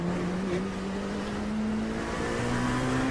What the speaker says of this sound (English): let's listen on board here with Alex Crow for a second, Joe.